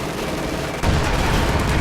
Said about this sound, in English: that captain just shot bazookas right into me